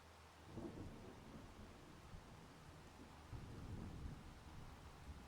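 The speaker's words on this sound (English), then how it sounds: "Love the sound effects of the rain" Steady rain with a low rumble of thunder in the farming video game Farming Simulator 25, a continuous, dense wash of falling rain with deep rolling swells, no talking over it.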